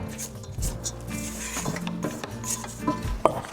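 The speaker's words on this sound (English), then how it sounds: "Again, scrape your bowl." A mixing bowl is scraped while egg bagel dough for sweet Easter bagels is made, giving close, continuous rubbing and clinking of a utensil against the bowl, with a few sharper knocks near the end and no talking.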